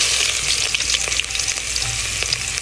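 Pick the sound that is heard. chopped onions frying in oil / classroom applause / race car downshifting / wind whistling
chopped onions frying in oil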